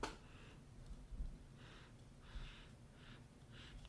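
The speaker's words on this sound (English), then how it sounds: "Let's get a sniff here." A person sniffing a freshly opened trading card pack: several short, soft nasal sniffs in quick bursts, close and quiet, with no talking.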